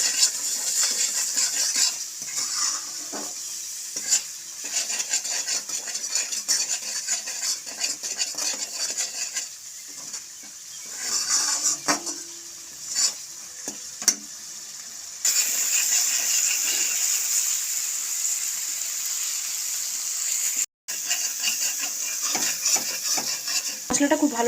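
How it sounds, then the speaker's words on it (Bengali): Ground spices stirred and fried in a pan for Bengali katla fish rezala, a steady scraping of a spoon against the pan over a continuous low sizzle, close and fairly loud throughout, with one brief dropout near the end. "গুঁড়ো মশলাটা দিয়ে আবার একটুক্ষণ কষিয়ে নেব।"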